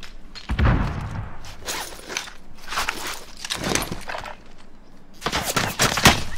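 Gunfire in the Call of Duty game mode Mercenaries of Fortune comes in separate sharp bursts and single shots, loud and close, with short gaps of quieter movement between them.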